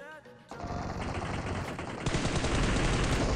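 Loud, close bursts of rapid automatic gunfire ring out in a mobile battle royale video game, with the firing growing denser and heavier partway through.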